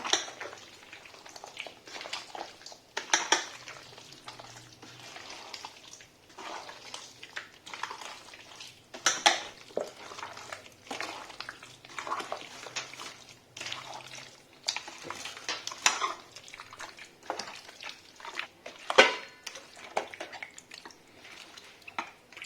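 Intermittent scraping and clinking of a spoon stirring mutton biryani ingredients in a pot, soft wet sloshes in irregular bursts at close range, fairly quiet overall.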